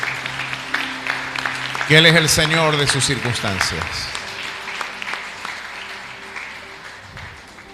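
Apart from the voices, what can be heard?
congregation applause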